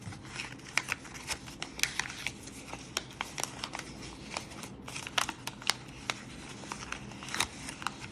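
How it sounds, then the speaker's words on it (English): Origami paper being gently pushed in and rotated as it collapses into a rose, with soft close crinkles, rustles and small sharp crackles scattered irregularly throughout. "you're gonna keep pushing the paper in gently"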